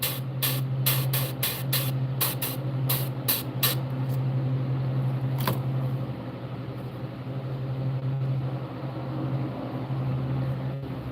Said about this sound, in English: I am airbrushing and making a largemouth bass pattern